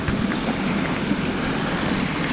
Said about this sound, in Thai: ชอบบรรยากาศนี้มีน้ำไหลตลอดเลย